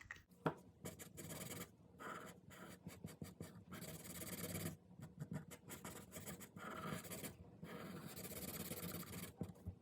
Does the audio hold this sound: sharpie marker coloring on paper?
yes